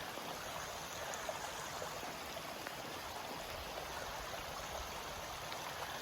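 Steady rushing and trickling of a mountain stream near Mount Rainier while a water bag is filled, a continuous even wash of water close by with no talking.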